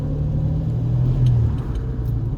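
A Jaguar E-Type V12 idles at about 800 rpm, a steady, smooth low rumble close by with a slight swell midway and no one talking over it.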